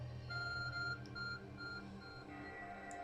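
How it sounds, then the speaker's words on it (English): In Pokemon Legends Arceus, the Arc Phone gives a series of soft repeated electronic tones in a short on-off pattern, faint over quiet in-game background music. "Your art phone is beeping."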